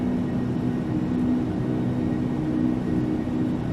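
Jet engines of an L-1011 TriStar in Flight Simulator X at not-quite-full power on the takeoff roll: a steady, loud, broadband roar with a faint hum, unbroken throughout.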